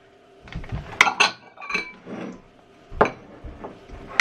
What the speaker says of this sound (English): Gonna line up some bowls.